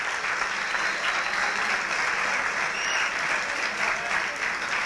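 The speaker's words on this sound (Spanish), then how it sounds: "Así que un aplauso para nuestros directores." A conference audience applauds Mexican film directors with steady, even clapping that fills the hall for about five seconds, no voices over it.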